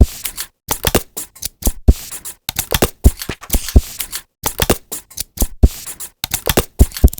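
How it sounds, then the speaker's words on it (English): A Samsung Galaxy Note 9 ringtone: a crisp percussive electronic tone pattern with sharp plucked hits and short gaps, repeating in a lively rhythm, loud and clear with no voices. "What you just heard was the first iteration of a ringtone that I sent Samsung"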